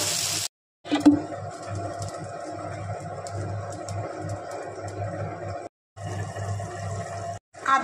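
Water poured into a pan of Bengali fish curry cooked with mango, a steady close rushing splash that runs for several seconds, broken by a couple of short pauses.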